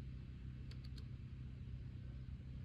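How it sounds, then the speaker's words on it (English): Cars roll slowly into a parking area close by, a steady low engine rumble with light tire noise filling the whole stretch, a few faint higher ticks briefly on top. "We got cars pulling in left and right."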